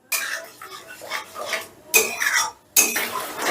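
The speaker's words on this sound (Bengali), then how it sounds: "আগে ভালো করে মিশিয়ে নিই।" A spoon scrapes and clatters against a pan while masala is stirred for a moong dal bora curry, in three bursts of close, rasping stirring separated by brief silences.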